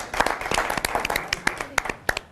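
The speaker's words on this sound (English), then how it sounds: "a standing ovation over here. That's fantastic." A standing ovation after a brand-building talk, heard here as a thin patter of separate, distinct claps from a small nearby group, fairly soft and uneven.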